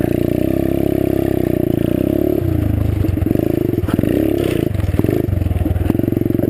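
A small pit bike's single-cylinder engine blares close and loud while ridden, revving hard and dipping as the throttle is worked, rough and sputtering at wide open throttle, with clatter from the ride underneath.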